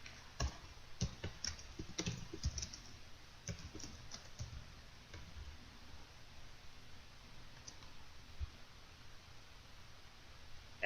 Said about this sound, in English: We type in our industry.